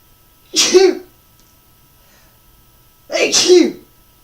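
Two loud, close sneezes, each sharp and explosive, separated by a few seconds of quiet.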